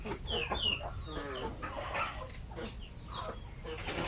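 Native hens clucking inside a coop, several birds making short overlapping clucks and calls at close range, with rustling and other farmyard noise throughout.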